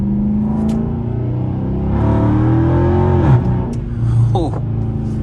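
A 478hp all-wheel-drive Dodge Charger R/T drives at night, a low engine rumble heard from inside the car rising with a rev midway, while someone talks over it.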